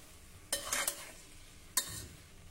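Slices sauté in a pan until browned for a rice dish. Two brief bursts of sizzling and stirring scrapes rise from a quiet background, soft and close.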